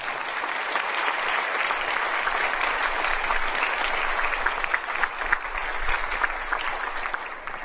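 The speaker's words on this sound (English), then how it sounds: "let's give Barb Dufferin a huge round of applause" An audience at an international musical event breaks into a long, even round of applause, many hands clapping steadily at moderate volume with a few louder claps standing out.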